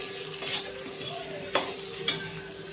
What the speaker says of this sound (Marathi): हे पहा, कांदा भाजतो आपला.